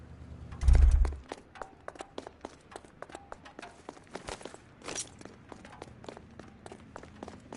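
Fleeing suspects run on foot in the detective game L.A. Noire, their footsteps a quick, regular patter of light taps after a single low thump, moderately close with no talking over them.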